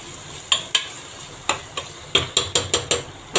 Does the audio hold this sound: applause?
no